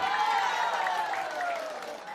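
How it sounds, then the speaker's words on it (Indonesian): Listeners at a humorous Islamic sermon clap together in a continuous, even burst of applause, with a voice or cheer carrying faintly over it. "Tepuk tangan atuh."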